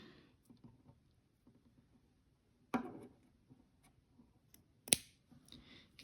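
Sharp scissors snip yarn on a crocheted pillow made with Mandala yarn: two faint, quiet cuts a couple of seconds apart amid soft handling rustles, with no talking.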